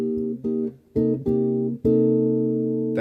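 Warm, soft bossa nova guitar chords plucked in a gentle syncopated pattern with small melodic notes on top, short clipped strums before a longer ringing chord.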